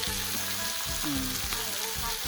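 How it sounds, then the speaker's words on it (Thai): Pork stir-fries in a hot pan with pounded chilli and garlic for Thai basil pork, a loud continuous sizzle with brief stirring clatters, all over a short stretch. "เราคั่วหมูลงไปเนี่ยอย่างนี้เลยนะครับเนี่ยเอาหมูใส่คั่ว"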